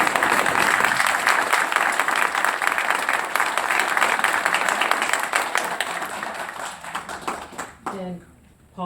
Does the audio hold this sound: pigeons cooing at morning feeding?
no